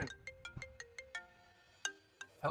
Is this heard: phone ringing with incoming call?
yes